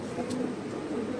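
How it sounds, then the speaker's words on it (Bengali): Cream bar racer pigeons, a young pair at a pigeon farm, give soft low cooing that runs steadily through the moment, close by and fairly quiet. "ইয়াং বয়সের এক জোড়া ক্রিম বার রেসার দুইটার কবুতর"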